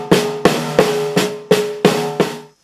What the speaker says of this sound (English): I can also put an accent on the A on the end